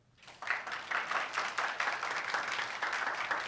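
Audience applause after a university lecture, a crowd clapping steadily and fairly close, starting abruptly after a brief silence and holding at an even level throughout.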